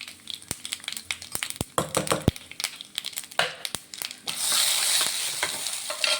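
Cumin, mustard seeds and mixed lentils tempering in hot oil for chutney crackle and pop in sharp, irregular bursts, building into a dense, loud sizzle near the end.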